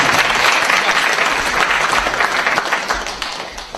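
A crowd claps in sustained, loud applause for a departing speaker at a lecture event, gradually tapering off toward the end.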